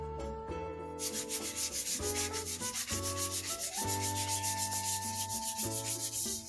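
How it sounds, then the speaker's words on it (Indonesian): Rhythmic back-and-forth scraping of sandpaper rubbing a surface after brushing it clean, steady strokes repeating, with sustained background music underneath. "Sudah itu kita amplas."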